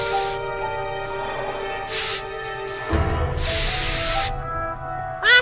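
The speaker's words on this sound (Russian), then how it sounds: "Теперь, чтобы кайфануть, он вдыхает спрей для мониторов." Aerosol monitor-cleaning spray in a South Park cartoon hisses out of a can in several separate bursts of different lengths, one short, then a longer blast, then the longest.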